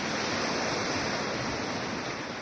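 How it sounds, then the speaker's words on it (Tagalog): Strong sea waves crash and wash continuously at night, a dense, unbroken roar of surf mixed with wind, loud and steady throughout with no voices. "Lakas ang alon yan. Lakas ang alon mga lods."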